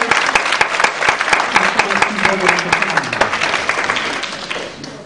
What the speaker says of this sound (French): Merci des applaudissements.